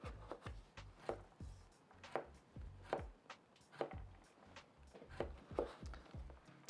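A short-bladed Japanese knife, gyuto or nakiri, dicing vegetables into small cubes on a cutting board: a steady run of crisp, close chops roughly two per second, without talk.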